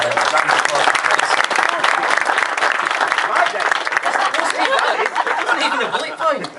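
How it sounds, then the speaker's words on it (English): Sustained applause from wedding guests after a speech, steady clapping throughout with scattered chuckles and murmuring mixed in. "Round of applause for Chris."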